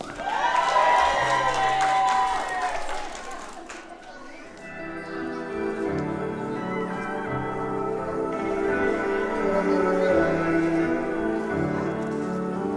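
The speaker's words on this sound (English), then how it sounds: "A big round of applause to Alex Xavier." An audience at a seventh birthday party breaks into applause and cheers, loud and dense for a few seconds, then the clapping fades as music carries on underneath.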